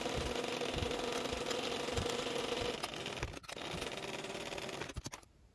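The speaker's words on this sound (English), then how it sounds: "we're going to sew through the bottom with 3/8 inch seam allowance" Sewing machine running steadily while stitching the bottom seam of a bag lining with a 3/8 inch seam allowance, a close, even mechanical whir with rapid needle ticking that slows and stops near the end.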